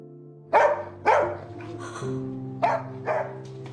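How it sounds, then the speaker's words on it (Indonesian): A dog barks five times in a close, insistent rhythm, sharp yelping barks in two pairs and then a single one over a low steady background hum. "Dingga yang terus menggonggong seakan ingin keluar mengejar Cholmin."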